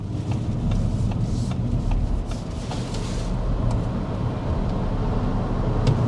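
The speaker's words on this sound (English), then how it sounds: "we need to start with a hard acceleration" A 2025 Audi Q6 e-tron accelerates hard, heard from inside as a steady low road and tyre rumble with faint whirring and light rubbing noises, fairly even in level throughout and without talk.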